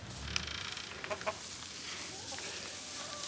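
Chickens cluck softly nearby in a coop with fresh straw, a few short calls over a quiet rustling background.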